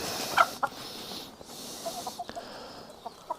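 Backyard hens in a garden pick at freshly pulled weeds and give soft, scattered clucks. The calls are quiet and sparse and sit over a faint outdoor background, with no speech.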